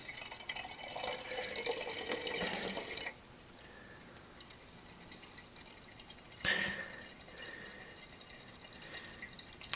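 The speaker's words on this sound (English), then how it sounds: "I'm filling the 1 gallon jugs first, and then whatever is left I'll put into the half gallon." Homemade kit wine pours from a raised container into one-gallon jugs, running down the jug side to avoid foaming; a steady trickling stream for about three seconds, then quiet with a brief splash midway, no talking.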